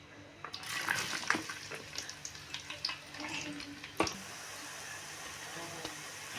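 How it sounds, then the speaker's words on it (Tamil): Sliced onions sauté in a pan after mustard seeds have popped, giving a busy sizzle broken by stirring clatter and a sharp knock. The sizzle settles into a quieter steady hiss. "வெங்காயம் வதங்கிட்டு இருக்குங்க"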